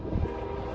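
A westbound train passes through Schoolcraft, Michigan, producing a steady, loud, low rumble that is heaviest at the start, with no talking over it.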